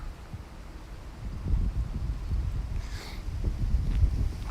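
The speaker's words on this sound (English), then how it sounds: "Oh, cold wind blowing now." Cold wind gusting past a microphone during a Saturday morning walk in Japan, a steady low buffeting rumble that swells and eases without a break, close and moderately loud.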